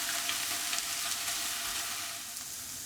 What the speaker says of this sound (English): I'm going to cook these mushrooms until they take on a little bit more colour